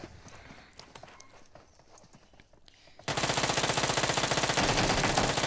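Gunfire in a battle royale video game, a dense burst of rapid automatic shots that breaks in suddenly and loudly after a quieter stretch of softer scattered game sounds.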